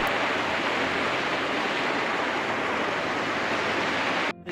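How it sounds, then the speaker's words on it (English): Heavy rain pours down steadily in a dense, loud, unbroken hiss on a boat at anchor, with the roar cutting off abruptly at the very end. "It is pouring."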